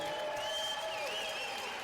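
Steady applause from a crowd at an international athletics jump meeting in Cottbus, continuous and moderately loud through the whole moment with a faint whistling tone over the clapping.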